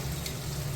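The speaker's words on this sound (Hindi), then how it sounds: "इसमें साबुत धनिया और जीरे का तड़का लगेगा।" Whole coriander seeds and cumin sizzle in hot oil for a tempering, a dense, even crackle that is close and steady for under a second, with no talking.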